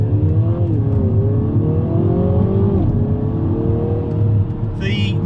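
A Mini JCW Clubman in sport mode with a manual gearbox accelerates along a country road, its engine droning loud and steady from inside the cabin as the revs climb and a gear change breaks the pitch.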